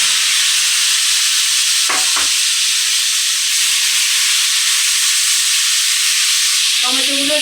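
Tomatoes fry in hot oil with whole cumin seeds, giving a loud, continuous hiss. A couple of short knocks come early and a brief clatter near the end.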